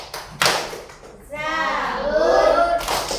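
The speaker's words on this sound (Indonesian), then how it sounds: "kita tepuk tangan kitab-kitab Allah dulu" A class of children in a school lesson claps hands in a chant rhythm, a few sharp claps breaking up singing voices that carry most of the moment.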